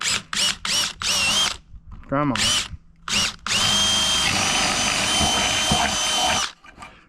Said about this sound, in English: So I'm just going to take a screw gun.